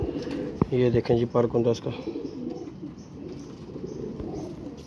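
Pigeons coo in a rapid series of throaty bursts early on, then settle into quieter, rougher background sound while someone speaks over them.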